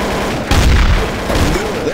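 Gunfire in a Trouble in Terrorist Town video game match as players shoot Dr. Phil, with a burst of loud shots in the middle of the clip and another cluster near the end.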